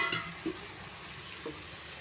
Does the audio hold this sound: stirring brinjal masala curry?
yes